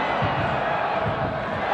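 A crowd at a football match reacts to a foul on the pitch with a dense, continuous roar of voices and shouts close by.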